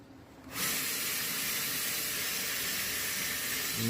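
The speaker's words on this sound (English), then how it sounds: "now we're going to see if we can drill some of this out of here" A loud, steady drill whir starts abruptly after a brief quiet moment and runs continuously with a hissy, broadband texture, scrubbing stains from the upholstery of a 2014 Honda Civic.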